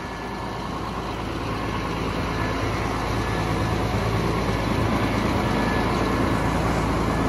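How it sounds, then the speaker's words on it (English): A Gruber Baumaschinen crane running at a truck and living-box event, with a loud, steady diesel engine drone and low rumble that carries on evenly with no talk. "Check it out. Here's the crane."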